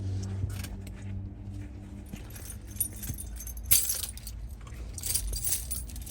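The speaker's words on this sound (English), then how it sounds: "First, take the keys off." Truck keys jangle as they are pulled off, soft metallic clinks scattered through the clip with brighter bursts of jingling near the middle and the end, close by over low cab rumble.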